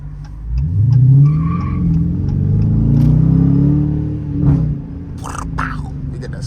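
A Dodge Challenger RT slides with traction control off: a close engine drone rises and falls with a sweeping tire squeal, while someone talks over it.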